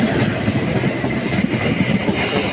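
Inside a first-class coach of a Kolkata special local train running on the rails, a loud, close, continuous rumble with steady rhythmic clickety-clack of wheels over joints, no talk.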